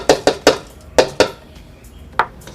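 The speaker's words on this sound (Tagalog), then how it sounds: "painitin natin yung kawali, then ilalagay na po natin yung balat ng itlog" Crushed eggshells tipped into a heated kawali, sharp hard clatters striking the metal pan in a quick irregular run of about seven knocks, close and loud with no talk.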